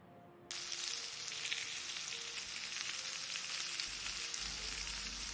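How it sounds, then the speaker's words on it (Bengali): Chicken pieces drop into hot oil for egg chicken fried rice, and a loud, steady sizzle of frying starts abruptly and continues unbroken to the end, with no talk. "তেলটা গরম হয়ে যাওয়ার পর আমরা এর মধ্যে চিকেনগুলো দিয়ে দেবো।"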